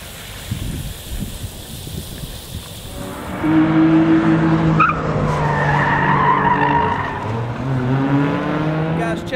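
A Porsche Turbo slides sideways on a race course at a driving school, with tire skidding and a loud, sustained engine note rising after a few seconds and continuing to the end, over a fainter rumble at the start.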